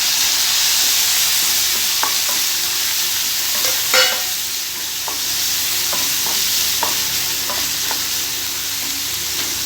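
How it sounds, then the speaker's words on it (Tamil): Chopped tomato sautéing in a hot pan, a steady bright sizzle running throughout with scattered scraping stirs and one louder clatter near the middle; no one talks. "அதையும் சேர்த்து நல்லா வதக்கிக்கலாம்."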